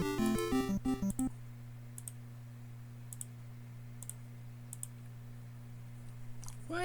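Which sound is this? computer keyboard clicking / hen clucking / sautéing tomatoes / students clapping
computer keyboard clicking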